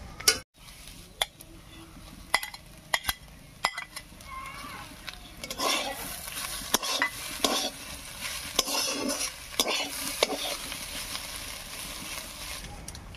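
Fried onion is stirred into cauliflower and egg in a frying pan, giving irregular scraping and clattering taps of a utensil against the pan over a soft sizzle.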